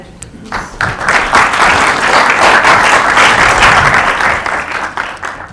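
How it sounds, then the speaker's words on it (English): Audience applause fills a hall before a lecture on global gender justice and violence against women, a dense steady clapping that swells in after a brief quiet start and holds strong and loud throughout. "I don't know why people always applaud before the talk"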